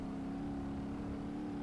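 A car running on bare steel rims with no tires at about 82 mph on a runway gives a steady droning whir with a tonal hum, continuous and unchanging through the moment.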